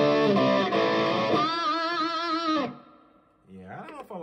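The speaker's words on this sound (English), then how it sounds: "we could try Horizon Drive." Fender Telecaster electric guitar played through a Line 6 POD Go's Horizon Drive overdrive, giving sustained, harmonically rich driven chords that ring for about two and a half seconds, cut off, and then a brief bending phrase.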